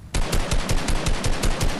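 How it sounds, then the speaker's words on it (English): Rapid automatic gunfire in a video game, a loud, close burst of evenly spaced shots at roughly eight per second, running continuously after a sudden start. "I'm getting shot at from behind"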